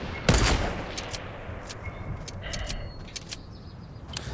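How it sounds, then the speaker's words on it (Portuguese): Gunfire in the video game Fortnite: a loud opening shot followed by a series of sharper, quicker reports spaced irregularly over a few seconds, with faint game ambience between them. "Eu vou atirar pra me defender,"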